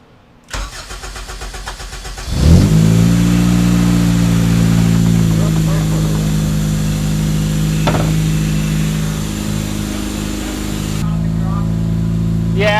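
An HPD racing K-series engine swapped into a Honda EK cranks over, catches and settles into a loud, steady idle with a few small blips, heard close up in a garage.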